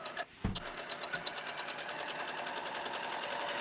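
Domestic sewing machine stitching fabric to baste within a seam allowance: a brief clunk, then a rapid, even mechanical whirr of needle strokes running steadily up close, with no talking.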